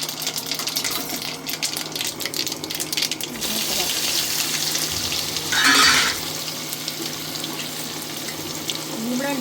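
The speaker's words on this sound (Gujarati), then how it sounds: "પછી એમાં નાખવાના ઢોકળા." Steamed muthiya dhokla pieces drop into a Gujarati tempering of mustard seeds and a red chilli in hot oil, raising a continuous close sizzle with scraping at first and a louder surge of frying partway through.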